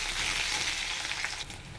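Onion and spices fry in hot oil in a pan with lime leaf, a dense crackling sizzle with soft scraping stirs, close and steady with no voices.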